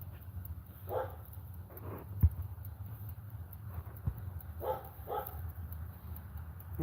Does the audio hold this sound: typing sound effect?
no